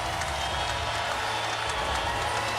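A big arena crowd at the 2016 Olympic basketball gold medal game between the USA and Serbia roars steadily, a continuous wash of cheering and applause with no break.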